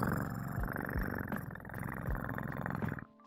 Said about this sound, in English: There, you got your little purr over there